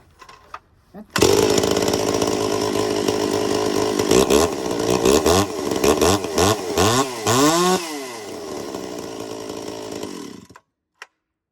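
A chainsaw warming up starts with a burst, then runs loud and close for about nine seconds with repeated revving swells before cutting off.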